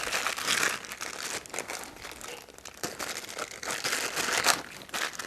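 Close crinkling and rustling of a Ziploc plastic bag being handled, continuous uneven crackles and crunches with brief pauses, no talk.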